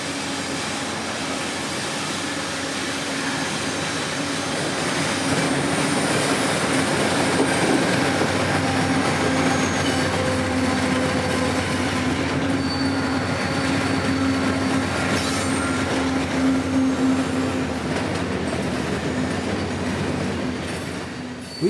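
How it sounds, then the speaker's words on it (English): A CSX freight train led by new America 250 locomotives rolls past close by, a loud, steady rumble with metallic wheel clatter and squeal building and holding for about twenty seconds, with no voices. "here'd come the train, with CSX's brand new America 250 units up front."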